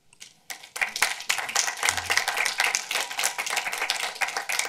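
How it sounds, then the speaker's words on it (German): An audience at a film talk breaks into lively applause, many hands clapping in a dense, sustained burst that starts after a brief pause and carries on steadily. "Also ganz tollen Applaus für diese Aktion"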